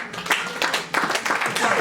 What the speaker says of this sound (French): applaudissez pour notre Blanche